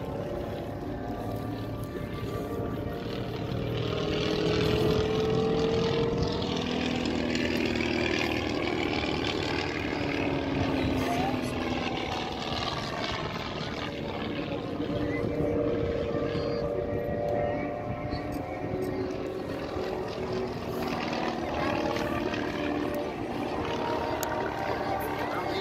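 At the Southport Air Show on a 2018 evening, aircraft such as the Red Arrows, a Lancaster bomber and a Spitfire drone overhead in a steady, loud roar with shifting pitch, and voices talk underneath.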